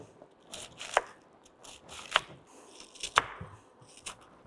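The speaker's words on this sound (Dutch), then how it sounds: "Ik ga nu de witte kool snijden." Knife slicing white cabbage into strips on a board, a few distinct crisp chops spaced about a second apart with softer crunching between, close and fairly quiet.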